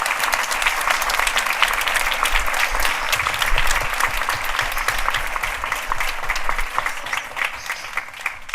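Strong, sustained applause from an audience at a book presentation, honoring the authors and performing artists, dense and continuous clapping that stays loud before tapering slightly at the end.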